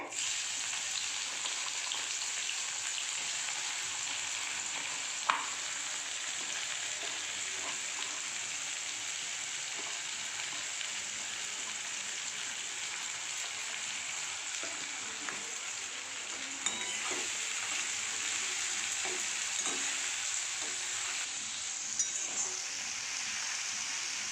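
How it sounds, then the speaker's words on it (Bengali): Chopped onions fry in hot tempered oil for a Bengali home-cooked pabda fish dish, a steady soft sizzle with occasional faint clinks of a spoon, continuous and moderately close. "এবার আমি পেঁয়াজ কুচিগুলো দিয়ে দেবো ওতে"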